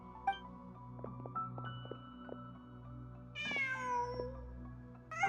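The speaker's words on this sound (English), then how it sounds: "Just a cat." A cat meows in the video game Genshin Impact, two or three rising, plaintive calls heard up close over a soft, steady game soundtrack, with no talking.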